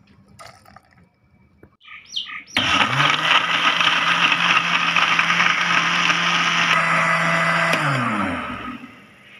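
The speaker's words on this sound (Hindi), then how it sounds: "नींबू का रस, पुदीने के पत्ते और इसमें बर्फ़ डाल के इसको अच्छे से ग्राइंड कर लेना है" An electric blender grinds strawberries, sugar, lemon juice, mint leaves and ice for strawberry lemonade, starting with a loud, steady motor roar after a few quiet clicks and handling noises, then winding down at the end.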